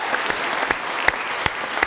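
Audience applause during a political party leadership debate, a dense, even wash of clapping with a few sharper claps standing out, continuing throughout.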